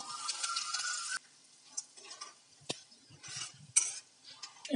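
Mustard seeds, cumin and split lentils tempering in hot peanut oil, giving a steady sizzle for about a second before it drops to faint crackles and a few scattered stirring clinks.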